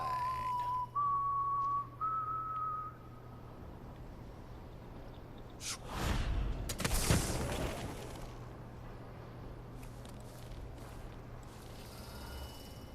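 A character in Dishonored 2 whistles a short rising tune of a few clear notes, followed by a deep explosive boom and rumbling in-game ambience over a low steady hum.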